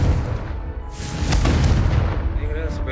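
A Confringo spell explosion in a video game, a loud booming burst that swells and rumbles for a couple of seconds amid game sounds, with a voice shouting the spell name.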